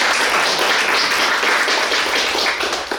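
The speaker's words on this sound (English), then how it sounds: "And give yourselves a round of applause." Dense, continuous applause from an audience at a political meet-and-greet, a loud, even wash of many hands clapping at close range that tapers slightly at the end.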